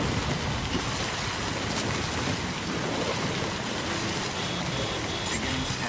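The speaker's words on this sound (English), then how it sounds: "I don't think this rain's gonna stop." Steady heavy rain pours in Death Stranding, a dense, unbroken hiss of drops on surfaces filling the whole scene at even loudness with no gaps or voices.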